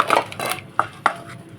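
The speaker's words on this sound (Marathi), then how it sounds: "आता हे मोठ्या भांड्यात मिक्स करायला लागेल मला" Dry bhel is mixed in a large pot, with a few scraping, rustling strokes followed by two sharp clinks of utensil against metal, close and without talking.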